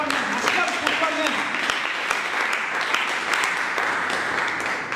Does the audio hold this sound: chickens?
no